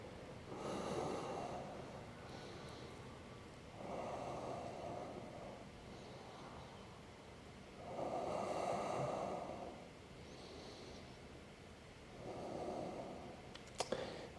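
Slow, deep breaths during a yoga core flow, four or five soft airy swells of inhale and exhale, each lasting one to two seconds, separated by quiet gaps.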